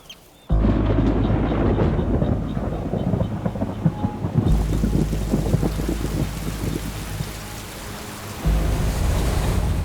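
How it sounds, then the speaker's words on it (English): Strong storm winds batter the Isle of May in the North Sea, heavy gusts roaring loudly and continuously with rough, rumbling bursts that surge and ease across the stretch. "the Isle of May is often battered by storms. With winds reaching 70 miles an hour."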